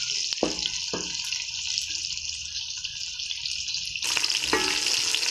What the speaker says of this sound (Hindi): घी मैंने चूल्हे पे रख के उसमें मैंने प्याज शामिल कर दिया है